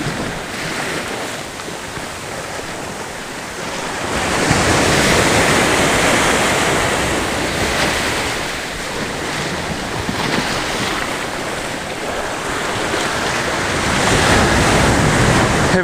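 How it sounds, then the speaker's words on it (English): Ocean swell rolls onto a local shore while fishing, a loud, continuous wash of surf swelling and receding in slow surges, with wind buffeting the microphone. "Still got that nice swell rolling,"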